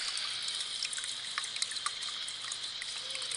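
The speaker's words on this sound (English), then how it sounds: "So I can add some water." Water trickles and pours into an Aerogarden hydroponic planter growing red heirloom tomatoes, a soft continuous splashing stream heard up close and alone.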